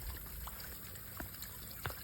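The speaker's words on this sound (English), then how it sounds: "And there's a little waterfall, little pond right there." A small waterfall trickles into a woodsy pond at a state park campground. Faint, steady splashing and dribbling sits over a soft broadband wash, with a few slightly louder drips, and no voices.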